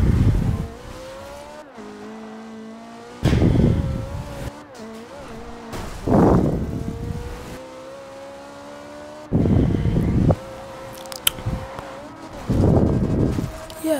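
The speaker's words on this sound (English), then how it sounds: "This is the Porsche Macan Turbo 2015" A 2015 Porsche Macan Turbo driven in the racing game Forza Horizon 2, its engine note rising and falling through repeated bursts of acceleration and gear changes, loud and close with no talk over it.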